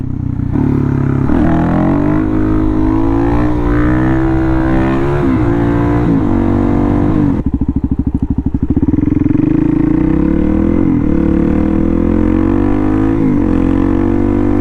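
Suzuki DR-Z trail bike fitted with an MRD exhaust, jet kit and 3x3 mod, revving hard through a second-gear power wheelie; loud, close engine that climbs, drops briefly and surges again.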